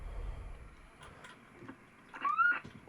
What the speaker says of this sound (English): Okay, that's the chirp.